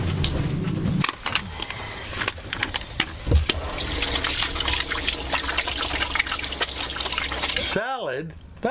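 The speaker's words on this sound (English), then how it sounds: "you gotta wash your hands before you come in." Water runs from a tap for handwashing in a steady close splash, while a voice talks over it before the flow stops near the end.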